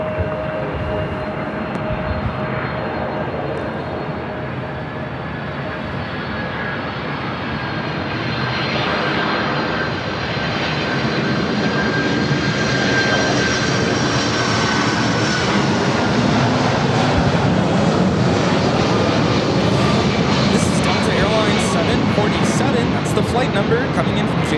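A Boeing 767-300ER airliner arriving at Los Angeles LAX from JFK sends a long, continuous jet roar that swells gradually and stays loud, with voices talking over it.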